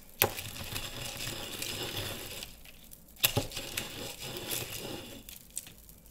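Pop Rocks candy fizzes and crackles against a pomegranate-juice-rimmed cocktail glass, a dense, close, continuous snapping with two sharp louder pops.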